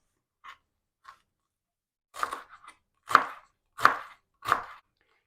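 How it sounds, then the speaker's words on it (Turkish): Knife chopping parsley finely on a board: a few light taps, then four firm, evenly spaced chops, close and crisp, with no talking. "Yarım deste maydanozumuzu yine ince ince doğramaya"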